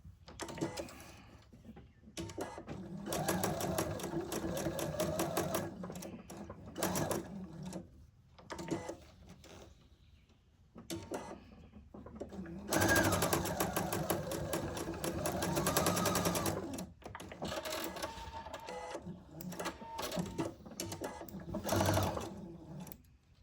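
A sewing machine stitches along a quilt block seam in several bursts, starting and stopping with brief pauses between runs, its close motor whir and rapid needle clatter loud and clear.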